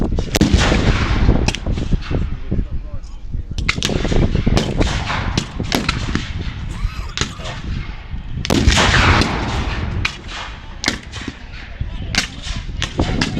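Rifles fire at a US Civil War re-enactment in a dense series of sharp, loud reports, some single and some in near-simultaneous volleys, spread irregularly over the whole stretch with faint voices between shots.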